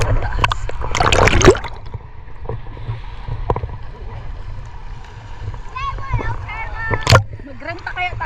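Sea waves wash and splash at Shek O Beach in Hong Kong, with one louder surge early on, while several people talk over the water throughout.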